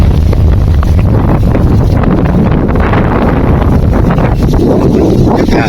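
Steady, loud wind gusting at a seashore where locals gather shellfish, buffeting the microphone with a continuous low roar throughout, no voices present.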